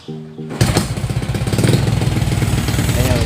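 A motorcycle engine cranks and catches after a short electronic beep, then settles into a loud, rapid, pulsing putter close by.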